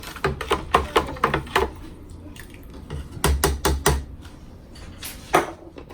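Spoon stirring a pitcher of pineapple lemonade topped with 7-Up, giving bursts of quick clinking and scraping taps against the container in two clusters, fairly close and moderately loud with quieter pauses between.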